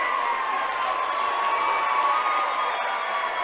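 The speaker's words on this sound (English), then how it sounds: "Round of applause for both teams." A gym crowd cheers and applauds after a buzzer-beating heave decides a girls high school basketball sectional final, a steady dense roar of voices and clapping throughout.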